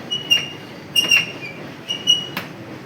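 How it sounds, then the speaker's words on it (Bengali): A train rumbles by at a distance, with repeated high metallic squeals and clanks rising over steady low noise. "আশা করি সবাই শুনতে পাচ্ছ ট্রেনের আওয়াজটা"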